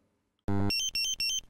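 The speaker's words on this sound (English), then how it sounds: "If this X symbol appears in the display and the audible, visual and vibration alarms are activated" A Dräger X-am 2500 gas detector sounds its instrument error alarm: after a sudden loud tone, a series of sharp, shrill electronic beeps pulses in a rapid repeating pattern, close and piercing.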